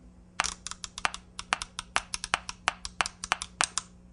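A basic metronome with a light and a dial ticks sharp, dry clicks in a quick, even pulse, set at 92 beats per minute and being sped up, sounding close and alone.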